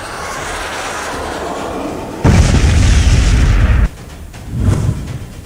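A missile explosion during the Russia–Ukraine war sounds as a sudden heavy, low boom that rumbles for over a second, followed by a fainter second thud, over a steady background roar.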